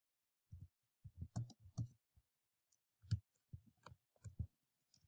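Sparse, quiet clicking taps in irregular bursts, like keys being pressed on a keyboard, with silence between.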